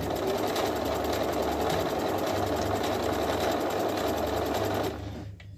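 Juki HZL-65 sewing machine running an overlock stitch, a fast, even mechanical rattling hum heard up close and alone, stopping abruptly near the end.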